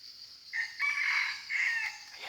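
A red junglefowl (labuyo) rooster crows fairly close by in two drawn-out, strained phrases separated by a short break, with no other voices.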